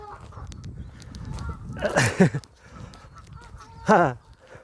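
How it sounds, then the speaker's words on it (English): Geese in a field beside the Macclesfield Canal honking loudly nearby in a couple of harsh, squabbling bursts, with quieter calls and rustling in between. "they're trying to have a barney from a distance"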